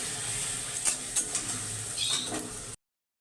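Mustard, cumin and dried red chili paste for tel koi sizzles in hot oil, a soft, steady frying hiss broken by a few light scrapes and clinks of a utensil against the pan before cutting off abruptly.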